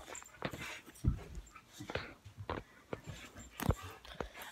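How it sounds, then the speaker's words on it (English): Dogs playing wildly close by, with soft whimpers and panting around a few sharper yips or thumps, under steady indoor background noise. "I gotta be careful for their dogs playing here."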